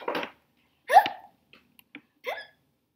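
A voice imitates a child's hiccups during a read-aloud of a children's book, giving several short, close vocal hiccup bursts with brief pauses and soft clicks between them, no other talk.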